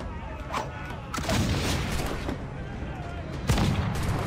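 Swivel cannon fire in the pirate video game Assassin's Creed IV during a naval battle against a schooner, with booming shots and explosions over dense battle noise.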